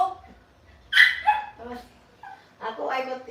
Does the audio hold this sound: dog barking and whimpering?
yes